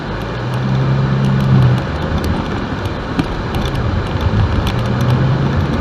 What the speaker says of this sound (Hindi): ट्रैफिक भी कम है कल के मुकाबले में।